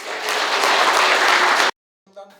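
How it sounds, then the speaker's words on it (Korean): A burst of loud, dense clapping from a crowd at a Buddhist foundation donation event fills most of the clip, stops abruptly, and is followed by a brief Korean voice. "우리 모두에게 큰 박수를 부탁드립니다."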